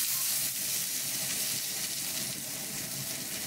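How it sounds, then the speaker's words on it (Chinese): A tied filet steak sears on its sides in a hot pan, giving a steady, close sizzle that holds constant and bright with a faint hiss of steam beneath it. "我们把侧面现在只是在煎侧面哦"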